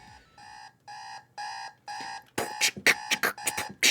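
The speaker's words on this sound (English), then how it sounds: "Got the alarm clock going. I can hear the buzzing of my alarm going off." A video game alarm clock buzzes in five steady, evenly spaced tones, then breaks into a louder, faster, harsher ringing burst. No one talks over it.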